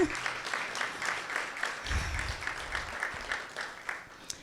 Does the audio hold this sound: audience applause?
yes